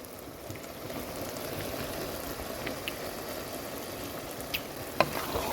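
Meat fries with fresh tomatoes in a pan, giving a steady close sizzle broken by a few clicks from a stirring utensil, with no talk.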